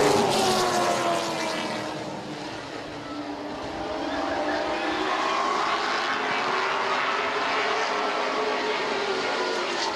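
Late model race cars roar around a short oval track at the green flag start, a loud, sustained engine drone that swells and fades as the pack passes, heard at a distance with no talking.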